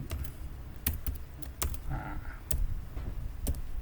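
Computer keyboard keys pressed in short sparse bursts while entering codes into road-pricing estimation software, a few distinct clicks close by with a low room hum beneath.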